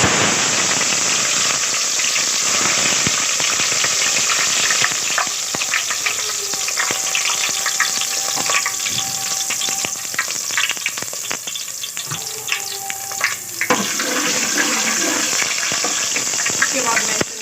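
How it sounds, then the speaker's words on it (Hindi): Green garlic goes into hot oil in a home kitchen and sizzles in a loud, steady, crackling hiss that holds for the whole stretch, with scattered pops and light stirring sounds over it. "अब उसमें सबसे पहले जो है मैं लहसुन, जो हमारा हरा लहसुन है, वो डालूंगी।"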